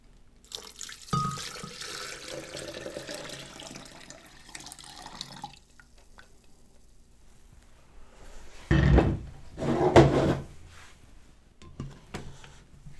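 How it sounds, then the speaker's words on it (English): Warm water pours into a blender from a tap for brain tanning buckskin, a steady splashing stream followed by two louder, fuller gushes after a pause, close and alone with no talking. "the last step here is just to add some warm water"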